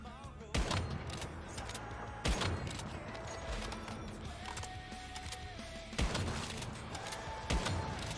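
Sharp gunshots ring out in the Once Human video game, a few spaced loud cracks over a steady background hum of game ambience and music.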